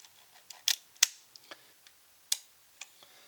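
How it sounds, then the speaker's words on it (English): An Olympus OM-1 film SLR with a cloth focal plane shutter gives a series of crisp mechanical clicks and snaps, close and irregularly spaced, with faint handling ticks between them and no voices. "your conventional cloth focal plane shutter"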